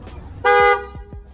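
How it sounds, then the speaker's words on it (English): A single loud Tesla car horn honk, about a third of a second long, sounds sharply over a low idling background. "Yep, I honked."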